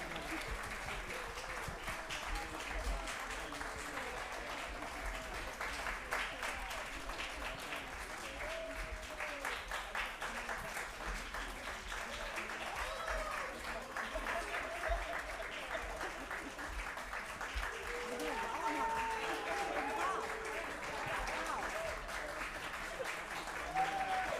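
Sustained applause from a concert audience for the singers and performers at a contemporary music festival evening, a steady wash of many hands clapping at a distance, with faint voices underneath.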